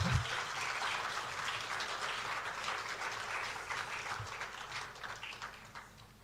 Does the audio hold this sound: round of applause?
yes